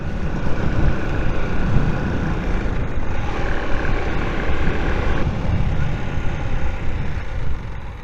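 A Honda CG125 motorcycle engine labours steadily up a hill with a constant droning rumble and rushing wind. It is loud and close throughout, with no clear speech.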